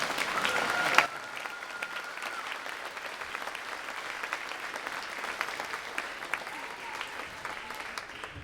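Audience applause at a school spring concert, dense steady clapping from a crowd that carries on evenly after a sharp start, moderately distant with no talk over it.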